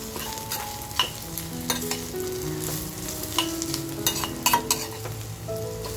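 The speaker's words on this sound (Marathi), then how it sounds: "मग आपलं आता खोबरं सुद्धा छान असं भाजून होतंय." Dry coconut roasting in a pan for a spicy village-style mutton curry, with a continuous close sizzle and repeated scraping stirs of a spatula against the pan.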